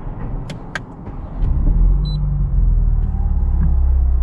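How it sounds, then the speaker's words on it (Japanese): A 2019 BMW Z4 with a 2-litre inline-four engine cranks and fires about a third of the way in, its deep rumble swelling and then holding as a steady, close idle after a few faint clicks. "エンジンかけてみたいと思います。"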